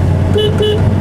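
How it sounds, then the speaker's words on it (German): A red 1970 Mercedes 280 SL Pagode gives two short, bright horn blasts in quick succession, each under half a second, sounding close over the low steady hum of its idling engine. "Hupe geht auch."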